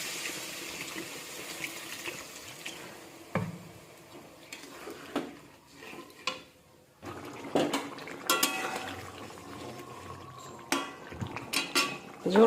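Potatoes are stirred in a cooking pot with scattered metallic clinks and scrapes against a quiet kitchen background, sporadic bursts with gaps between, close by and without talk.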